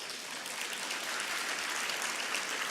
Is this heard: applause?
yes